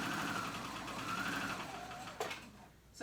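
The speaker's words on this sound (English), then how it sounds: "I'm sewing it on my sewing machine" A home sewing machine stitches knit fabric for an A-line dress with a collar, running with a steady whirring hum throughout that slows and stops near the end, with a faint click.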